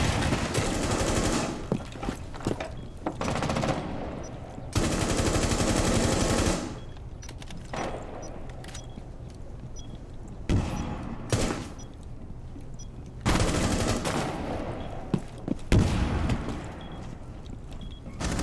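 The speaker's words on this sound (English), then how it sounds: "Thunderbird is just going rapid fire right now." Rapid automatic gunfire in the shooter game Rainbow Six Siege, several loud sustained bursts separated by quieter stretches of fainter shots and game noise, no talk.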